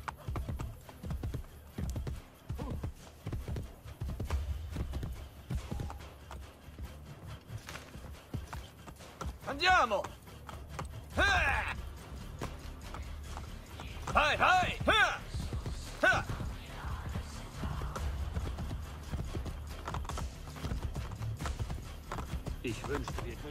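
Hooves clip-clopping on a horse in the game Assassin's Creed Brotherhood, a steady trotting rhythm running throughout, with someone talking over it and a few brief louder voice bursts.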